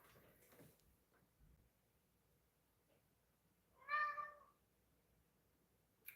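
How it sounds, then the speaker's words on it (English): A single cat meows clearly around the middle, a short, rising and falling call that stands out against an otherwise quiet room. "What are you meowing about?"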